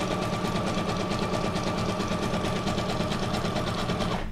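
Sewing machine stitches through paper for a junk journal, a rapid, even mechanical chatter of needle strokes running continuously, close and alone.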